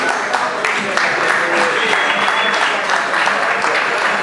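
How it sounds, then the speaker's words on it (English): Audience applause at a business association event, a loud, dense wash of many hands clapping that holds steady throughout, with faint voices mixed in. "Please give them a round of applause."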